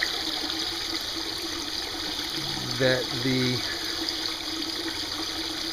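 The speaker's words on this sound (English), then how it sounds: "water travels up through the pump, through the PVC, and back into the water, which will aerate the water for bass" A small battery-powered pump in a cooler livewell pushes water through PVC pipe, a steady hiss and trickle under a voice, with a brief gush of splashing midway.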